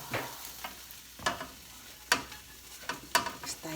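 Beef glass noodles and cabbage stir-fried in a hot pan, with repeated scraping stirs and bursts of sizzling over a soft frying hiss, close and without talk.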